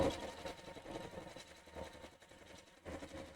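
A sewing and embroidery machine quilting a meander fill stitch on a 6x6 mug block: a steady, fairly quiet mechanical whir with a regular rapid needle pulse, heard alone.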